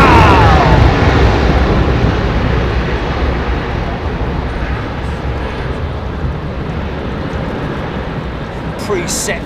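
Airliner engines spool up to takeoff thrust at Heathrow, a loud, dense roar that is strongest at the start and then holds steady, with voices talking over it.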